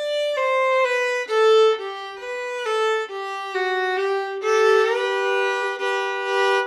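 Old-time fiddle plays the fourth phrase of the tune Roscoe, a clear, close run of bowed notes stepping downward in a steady rhythm, alone without speech.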